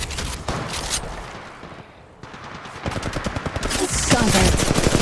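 Rapid automatic gunfire in Apex Legends Mobile, loud continuous bursts with a brief lull midway before firing resumes and intensifies toward the end.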